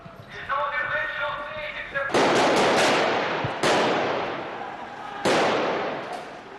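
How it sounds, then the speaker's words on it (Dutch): Gunshots ring out during a Belgian police raid on a house: three loud, sharp blasts a second or more apart, each trailing into a long echoing decay, with voices and street commotion underneath. "Er wordt nog geschoten in het huis."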